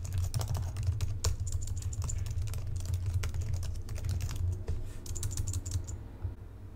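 Billing details typed on a computer keyboard, with rapid, close, steady key clatter for several seconds before stopping. No one speaks.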